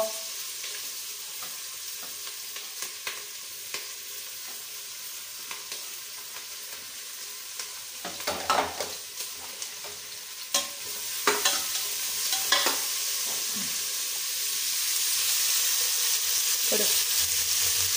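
Onion, carrot, capsicum and green chilli fry in a pan with a little oil and butter: a soft, steady sizzle fills the background while a spoon stirs and scrapes several times, close up and without talk.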